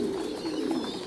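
Pigeons in a simple farm coop coo softly and continuously, a low, throaty murmur holding steady for about a second with no talk over it.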